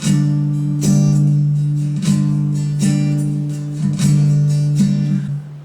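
A slow 8-beat strumming pattern on acoustic guitar, the chord strokes spaced out evenly, each ringing and decaying before the next, close and full with no voices.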